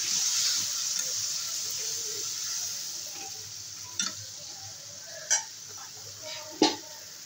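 Cauliflower and soybean curry sizzling and frying steadily in a pan, with a brighter hiss at the start as a little water goes in, then a few sharp stirring clinks and scrapes near the end.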